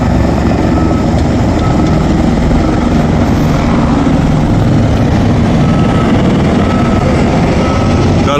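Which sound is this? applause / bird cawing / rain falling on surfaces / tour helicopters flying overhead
tour helicopters flying overhead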